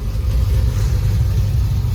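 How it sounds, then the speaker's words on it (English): A 6.0-litre LS V8 swapped into an old OBS truck idles on a very cold day, a steady low rumbling burble heard close and loud with no talk. "Very cold day, but got the old LS running."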